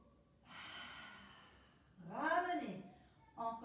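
A long, airy inhale during a Vinyasa yoga session, drawn in steadily for over a second, followed by a short voiced sound and then a brief return of breath or voice.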